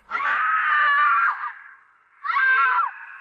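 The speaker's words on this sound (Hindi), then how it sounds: "तभी अचानक हमारे कानों में एक दिल दहला देने वाली चीख टकराई" A woman's bloodcurdling horror-style scream, two long wailing cries separated by a short gap, loud and close with no other sounds.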